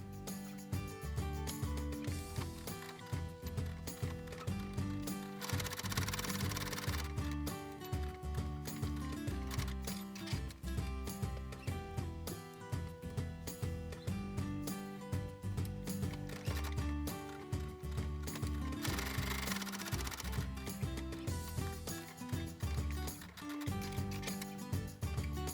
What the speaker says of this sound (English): Take this to your sewing machine and sew along both lines.